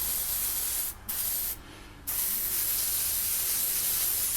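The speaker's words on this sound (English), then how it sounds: "I'm just going to use some WD-40 type stuff just as a bit of a lube." WD-40 type lubricant sprayed into a bore from an aerosol can, a loud continuous hiss broken by two short pauses before spraying resumes, close up and alone.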